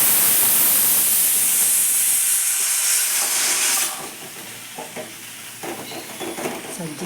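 A pressure cooker in a village kitchen releases steam in a loud, continuous hissing rush for a few seconds, then drops away to quieter intermittent sizzling and clatter.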